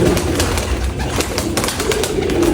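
Pigeons cooing continuously at close range, a soft, throaty rolling coo that carries on throughout with no talk over it.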